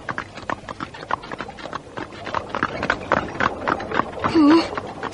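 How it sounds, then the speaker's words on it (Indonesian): Hooves of a horse pulling a carriage clip-clop in a steady trotting rhythm, moderately close, with a brief whinny near the end. "Kusir kereta menyentakkan tali kuda."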